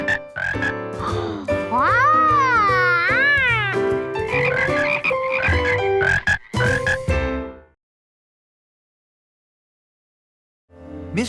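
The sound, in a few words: frog calls, cartoon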